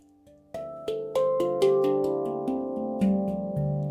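A handpan is struck note by note, each ringing metallic tone layering over the last and sustaining as the notes build into a gentle overlapping chord, played alone.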